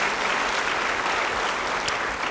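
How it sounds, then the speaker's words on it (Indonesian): A church congregation applauds during a sermon, a steady wash of many hands clapping that holds evenly from start to finish with no voices over it. "Yang percaya beri tepuk tangan bagi dia."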